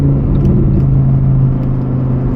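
A Lamborghini Huracan Evo Spyder's 5.2-liter naturally aspirated V10 drones loud and steady from close by, a thick, even engine tone running continuously with no voices over it.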